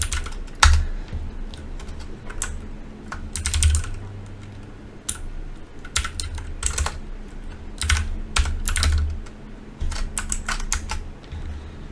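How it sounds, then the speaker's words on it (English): Computer keyboard keys tapped to enter a command in a WiFi penetration testing tool, producing irregular clusters of sharp clicks over about twelve seconds with a faint background hum and no talking. "you can simply type in aeroplay-ng tac help"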